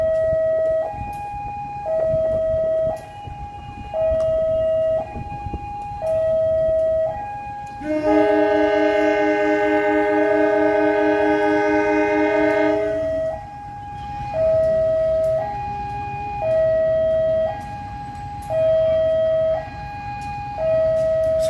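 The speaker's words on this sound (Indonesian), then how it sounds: "Selanjutnya kita tunggu kereta api Penataran lewat dan berangkat dari jalur 3." Penataran passenger train at Blimbing station: a repeating two-tone station signal chimes throughout, broken by a loud, sustained train horn blast of several seconds, with the signal continuing afterwards at moderate distance.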